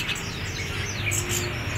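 Bird calls and chirps amid the busy ambience of an Indonesian bird market where a spotted dove (tekukur) is on sale, a steady mix of song under low background noise with no talk.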